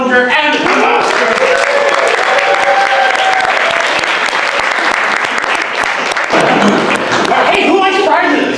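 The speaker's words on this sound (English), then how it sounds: "Ladies and gentlemen, one round of applause for Carl Herlinger and the Master." Audience round of applause at a marionette theater show, loud sustained clapping and cheering with a voice talking over it throughout, swelling again near the end.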